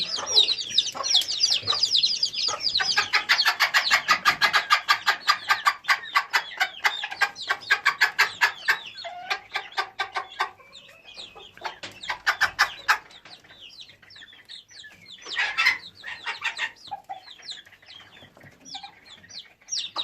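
A hen clucks busily while eating with her chicks, rapid pecking and scratching, her clucks mixed with high chick peeps, close by and continuous.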